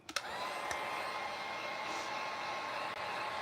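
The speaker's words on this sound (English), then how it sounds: "So what I'm going to do now is I'm going to dry this. I won't put too much heat on it" A heat dryer blows steadily on dried flowers being prepared for resin art, a close, even whooshing hum with a couple of small clicks at the start, running without talk.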